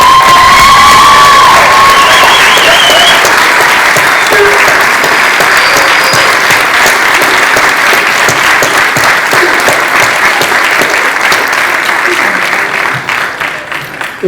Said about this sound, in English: let our graduates applaud you one last time tonight